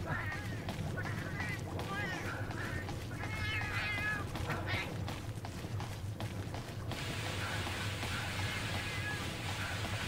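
Small Melynx cats in Monster Hunter 3 Ultimate give several high, squeaky meows over constant game music and battle noise, with someone talking throughout.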